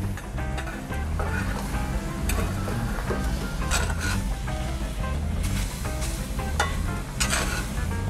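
Banana dropped into a pan of bubbling sugar-and-water syrup sizzles steadily and loudly, with a dense, continuous hiss and scattered clicks and scrapes of the pan throughout.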